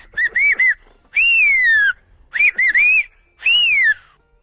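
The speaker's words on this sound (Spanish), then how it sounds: "A sus 85 años todavía silba." An 85-year-old man whistles in silbo, the Canarian whistled language, high on the Tejeda summit in Gran Canaria: four loud, piercing phrases of rising and falling pitch glides, separated by short silences, with no other sound.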